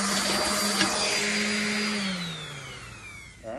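Steady whining drone of a power sander working 80-grit paper on an old Stevens .410 shotgun stock, running continuously close up before the pitch sags and winds down at the end.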